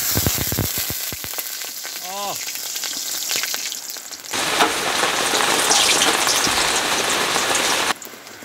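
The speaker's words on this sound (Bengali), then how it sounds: "গরম তেলে কাঁচা লঙ্কা আর আদা।" Green chilli and ginger hit hot oil in an outdoor courtyard kitchen, setting off a loud, dense sizzle that swells suddenly midway and holds steady before dropping back, with light clatter early on.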